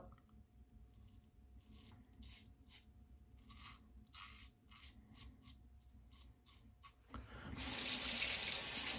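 Running tap water rinsing a Leaf Thorn razor after a pass of shaving cream, faint small clicks and taps first, then the tap rushes loud and steady near the end, no talking.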